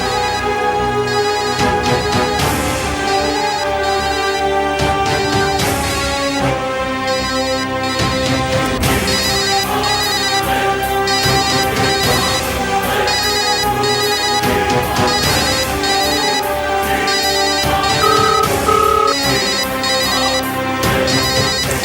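A loud electronic ringtone plays continuously, a repeating bright melody filling the whole stretch with no voices.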